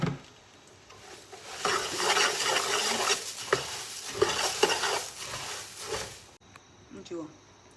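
Red chili powder is stirred into hot oil in a pan while making garlic puffed rice, giving steady scraping and sizzling with spoon clinks. Someone talks over it, and the sound cuts off near the end.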